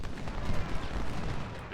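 Sharpshooter gunfire in the Ultimate General: Civil War game, a dense muffled rumble of distant shots and booming reports rolling together continuously for under two seconds, with no speech.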